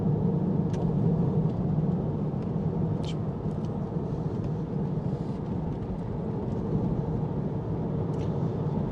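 Aston Martin DB9 Volante V12 convertible cruising on a winding road, a steady low engine and road rumble with wind noise and faint clicks, continuous throughout.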